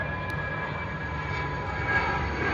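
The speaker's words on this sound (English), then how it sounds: "Plane." A fixed-wing airplane passes overhead, a steady broad engine roar with faint tonal whine, continuous and fairly distant throughout.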